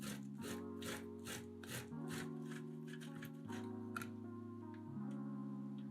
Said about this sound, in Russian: На крупной терке трем крабовые палочки, их понадобится 100 грамм.